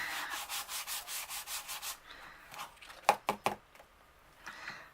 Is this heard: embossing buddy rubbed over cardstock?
yes